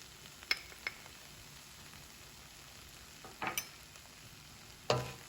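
A few soft scrapes and light knocks of a spoon tossing quinoa biryani with masala in a pan, heard as brief scattered clinks over a quiet, faintly sizzling background.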